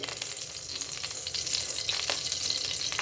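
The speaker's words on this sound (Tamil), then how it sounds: "பாஸ்மதி ரைஸும் வறுத்தணும் நல்லா" Basmati rice frying in ghee for vegetarian brinji rice gives a steady close sizzle, with occasional scraping stirs rising above the constant hiss.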